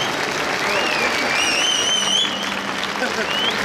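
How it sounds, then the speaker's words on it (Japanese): Sustained applause from an audience at an Okinawan Eisa dance festival performance, steady and dense throughout, with a few whistle-like tones rising above the clapping. "今一度大きな拍手をお送りください。"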